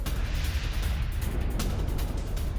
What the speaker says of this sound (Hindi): ये पटाखे फट रहे हैं।